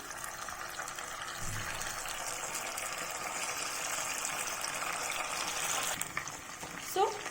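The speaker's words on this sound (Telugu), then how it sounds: "ఇప్పుడు మిగతా కబాబ్స్ని కూడా ఫ్రై చేసుకుందాం" Chicken kebabs fry in hot oil, giving a steady, even sizzle and crackle that fills the whole stretch, close and moderately loud, with a brief clink near the end.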